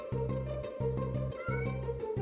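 Cartoon kitten meowing in a series of rhythmic, sustained cries repeated about three times, loud and close with no talk over it.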